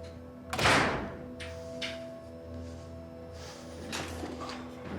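A car door shuts with a single solid thunk at the start, followed by a quiet idling engine hum inside the car and a few faint softer knocks.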